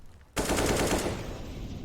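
Rifle fire from Counter-Strike: Global Offensive bursts in suddenly and rattles on as rapid automatic shots, loud and dense, during a competitive ESEA esports match with no commentary over it.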